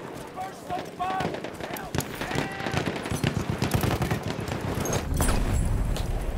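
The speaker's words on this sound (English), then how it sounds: "Machine gun." Machine gun fire in Battlefield 1 on the Giant's Shadow map, a loud, dense stream of rapid shots running through the whole stretch amid other battle noise, with players talking over it.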